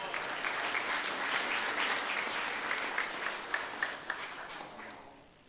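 Audience at a school board meeting applauds scholars, a steady moderate wash of clapping that thins into a few scattered claps and fades out at the end.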